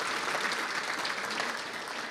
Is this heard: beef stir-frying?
no